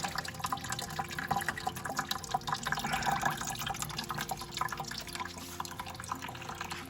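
Coolant draining from the side of the engine block on an Oliver 550 tractor, a steady close trickle and splash of liquid running continuously without speech.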